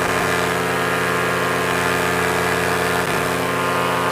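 A paramotor engine held at maximum RPM, around 7,400, on a cold day in flight, droning as a loud, steady mid-pitched hum with constant harmonics and only slight wavering throughout.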